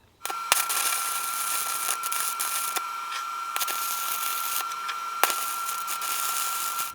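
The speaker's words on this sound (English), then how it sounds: "put this in here and run a bead of weld around it" A welder runs a bead around a jockey wheel handle, giving a close, continuous crackling hiss for about seven seconds, broken by a few sharp pops, with no talking.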